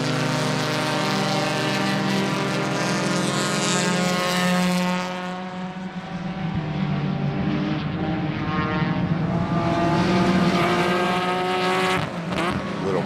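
Pack of improved touring club race cars roaring past at Sebring, loud engines droning and shifting pitch as the close-running cars pass, continuous and near throughout.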